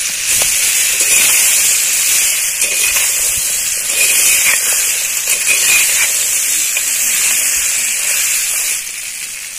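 Chillies sautéing in oil, freshly picked from a garden and cooked for a tamarind chilli dish, giving a loud, continuous frying hiss that stays steady throughout with no talking.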